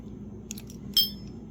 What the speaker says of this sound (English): Oops, key fell out.